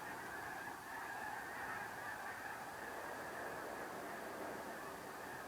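A dense flock of geese honks continuously at a lake wildlife refuge near Klamath Falls, a steady overlapping clamor of many calls at a moderate distance with no gaps.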